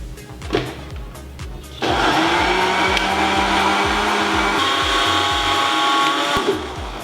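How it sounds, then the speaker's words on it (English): A countertop blender whirs steadily as it purees Thai green curry paste, starting abruptly after a short pause and running loud and close with a droning motor tone, no talking over it. "All right, let's blend."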